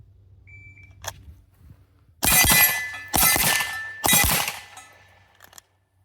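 A Walther PDP Match SF pistol fires three loud, sharp shots about a second apart at steel targets; a shot-timer beep comes first, and each shot is followed by a ringing metallic clang.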